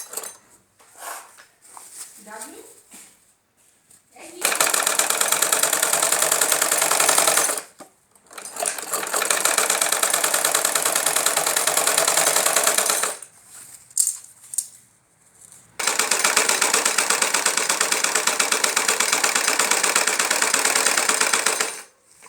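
A sewing machine stitches the leg openings of a belt-style salwar in three long, fast, even runs, separated by short pauses with soft handling noises.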